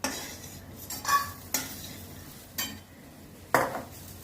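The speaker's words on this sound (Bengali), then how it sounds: "আমি ট্যাংরা মাছগুলো ভেজে নিচ্ছি" Tangra fish fry in a pan over a low, steady sizzle, broken by a few distinct scrapes and clatters of a utensil spaced a second or so apart.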